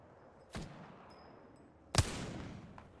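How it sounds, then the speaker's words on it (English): Two separate gunshots in the Apex Legends battle royale video game, sharp and moderately loud about a second and a half apart over faint background hum, with no talking. "Taking fire."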